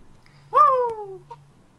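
A single clear meow of a cat, drawn out and falling in pitch, loud and close, followed by a faint short chirp in an otherwise quiet room.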